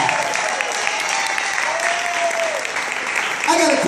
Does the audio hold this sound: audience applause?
yes